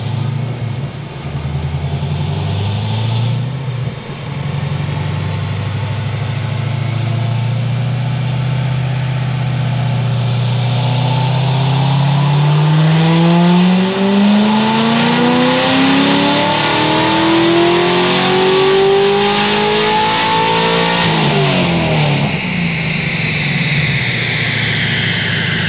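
A supercharged Edelbrock Corvette C6Z V8 on a dyno, rumbling at idle and then revving in one long, loud, steadily rising pull before the throttle drops back.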